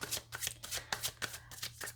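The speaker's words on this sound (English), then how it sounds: "Let me give it a little bit more of a shuffle" Tarot cards shuffled by hand in quick riffling bursts, about eight crisp rustling pulses over two seconds, close and clear with no voices.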